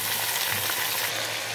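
Chicken pieces frying in a pot with spices and fennel seeds already fried in oil, giving a dense, even, loud sizzle that stays constant throughout with no talking.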